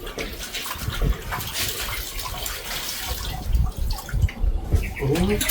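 Water pours and splashes into a container at close range, a steady running wash with voices talking over it.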